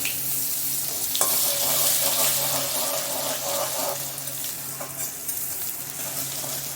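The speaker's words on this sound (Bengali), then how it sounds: "আদাটা একটু ভাজা ভাজা হয়ে যাবে" Grated ginger frying in hot oil with whole cumin while cooking mung dal, a close, continuous sizzle with bursts of crackling and stirring scrapes, no voices present.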